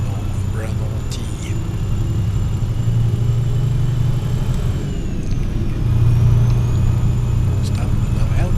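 Renault T truck engine in Euro Truck Simulator 2, over 500 horsepower, a steady low rumbling drone that holds throughout and swells slightly near the end, with talk running over it.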